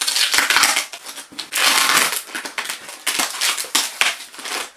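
Rough tearing and crinkling as a parcel wrapped in packing tape is ripped open by hand, in bursts of scraping, crackling noise close by.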